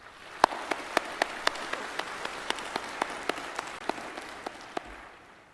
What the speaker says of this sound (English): Now, with a round of applause,